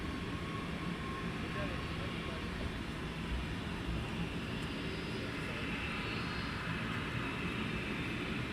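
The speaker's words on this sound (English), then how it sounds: "Wizz Air ready for departure" A Wizz Air airliner at Luton Airport on an early morning, its engines giving a continuous loud roar and rumble while voices talk over it.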